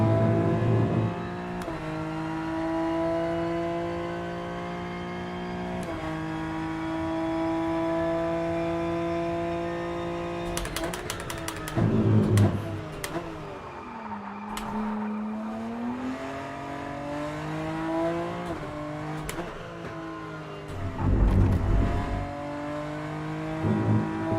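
A race car in the RENNSPORT racing game roars through a lap, engine climbing in pitch through the gears with abrupt shifts, hard downshifts and rough bursts of revving and tire noise, loud and continuous with no talk.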